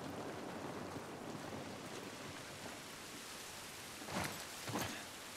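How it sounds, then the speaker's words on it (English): Rain falls in the video game The Last of Us Part 1, a soft, steady hiss of drops that is faint and even, with two brief louder gusts near the end. "I can feel the rain through the controller"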